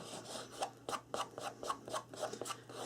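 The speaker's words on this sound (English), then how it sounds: "I'm sanding this because sometimes I have a little rough edge" The paper edges of a composition book are sanded in quick back-and-forth strokes, about a dozen soft rasping scrapes in an even rhythm, close and quiet.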